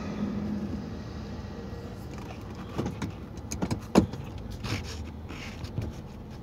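Interior of a moving car on the road, with a steady low rumble of driving, a few soft clicks and rattles, and brief knocks around the fourth second, fairly quiet and continuous.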